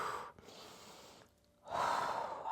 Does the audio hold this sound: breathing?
yes